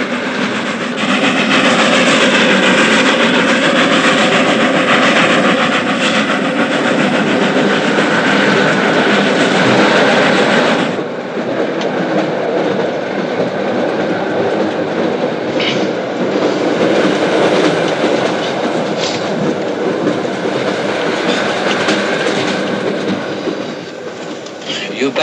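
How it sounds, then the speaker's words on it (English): A passenger train runs steadily along the rails with a loud, continuous roar and rhythmic clickety-clack from the wheels. The sound fills the whole scene without a break, and its texture shifts partway through. "I even took the slow train."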